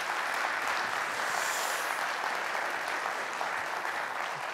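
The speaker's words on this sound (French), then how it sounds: "on peut l'applaudir" Steady applause from an audience at a French-language Java tech conference talk, a dense continuous wash of clapping that holds evenly for several seconds with no speech over it.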